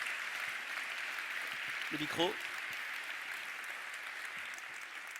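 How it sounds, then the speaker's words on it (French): An audience applauds a guest speaker at an anniversary event, a steady, even wash of clapping throughout, with a brief spoken phrase near the middle. "Je voudrais que l'on applaudisse votre invité"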